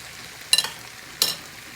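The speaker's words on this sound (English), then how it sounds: "Now I'm just going to cook it until the peas are nice and soft." Peas and tuna pasta sauce cooking in a pan, with two short bright sizzling bursts about half a second apart against a quiet background.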